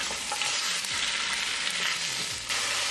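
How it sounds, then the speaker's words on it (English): Frozen stir-fried vegetables frying in oil in a pot for a vegetable soup give a steady, loud sizzle throughout, with soft scraping of stirring beneath it. "And frozen stir-fried vegetables. Mix it well. Cook it for a couple minutes so that there will be no more oil."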